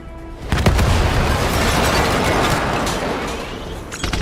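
Missile explosions in Call of Duty: Black Ops 3 erupt as a loud boom, then a long rumbling, crackling roar of debris with sharp metallic clanks at its start and end.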